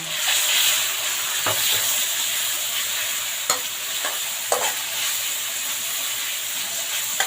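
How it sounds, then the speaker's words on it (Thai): Pork stir-frying in a hot pan gives a loud, steady hiss and sizzle throughout, with a few sharp clicks and scrapes from the spatula. No one speaks. "ผัดหมูพอสุกนะคะ"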